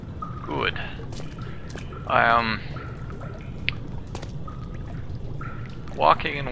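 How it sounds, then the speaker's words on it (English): Splashing footsteps wade through water in the game Amnesia, sloshing bursts arriving every couple of seconds over a dim ambient hum. "Walking in water's not going to work for me, game."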